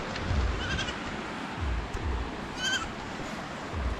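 Goats on a rural farm bleating in short calls over a steady rumbling background, several bleats spread across the clip, moderately close.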